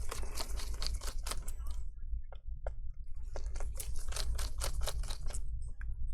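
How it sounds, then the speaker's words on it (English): Small screws being backed out of a Lenovo IdeaPad 5 14ARE laptop with a Phillips screwdriver, giving a run of fast, close clicky ticks and scrapes in two bursts with a short pause between them, over a low steady hum. "Let me just remove some of the screws first using a Phillips screwdriver."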